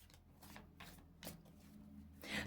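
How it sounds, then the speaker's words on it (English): Tarot cards being shuffled by hand, a series of soft riffling, sliding swishes in uneven bursts, quiet and close, with no speech over them. "I don't know why I'm still shuffling."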